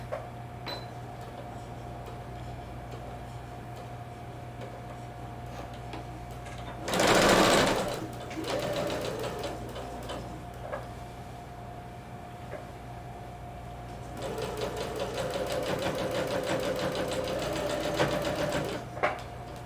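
A home sewing machine stitches a skirt seam at the default 2.5 stitch length: a short loud burst of rapid mechanical stitching, then a longer steady run of whirring needle strokes, close and alone.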